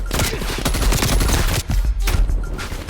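Rapid automatic gunfire from a DLC gun in Call of Duty Cold War, a dense, loud stream of shots that runs almost without break, with a brief pause midway before firing resumes.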